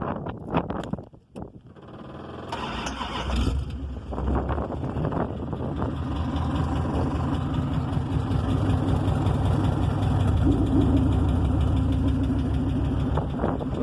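A junkyard Dodge Charger with a new exhaust starts up and settles into a loud, steady, rumbling idle close to the microphone.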